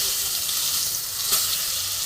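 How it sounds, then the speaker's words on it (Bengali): Eggplant slices fry in hot oil in a wok, giving a loud, steady, close-up sizzle with bright crackling hiss and no pauses. "এবার বেগুনটা আমি সুন্দর করে ভেজে নেব। কড়াইয়ে তেল গরম হয়ে গেছে,"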